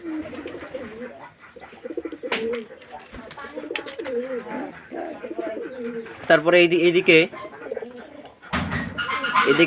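Pigeons coo in low, throaty bursts with scattered chirps and rustling at a nest with newly hatched chicks, while a person speaks briefly nearby.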